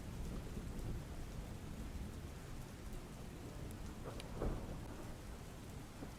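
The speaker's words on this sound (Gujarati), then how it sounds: "વ્યારા સહિત ગ્રામ્ય વિસ્તારોમાં છૂટો છવાયો ઝરમરિયો વરસાદ પડ્યો હતો" Steady, dense rainfall hissing over everything, with a low rumble of thunder in the background and no voices.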